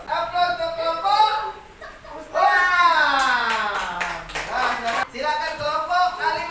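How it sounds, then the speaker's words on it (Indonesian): Applause for a group of students in an Islamic religious education classroom, several bursts of clapping mixed with children's voices and chatter, fairly close and lively. "Aplaus untuk kelompok."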